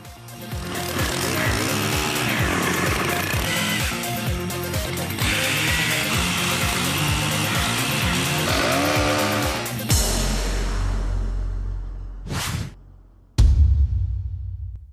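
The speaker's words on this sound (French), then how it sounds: "faire un trait de scie d'abord sous la branche, puis sur la branche" A STIHL powered pole saw whines steadily as it cuts through a tree branch for about ten seconds, then the engine cuts off, followed by a couple of short revs and knocks.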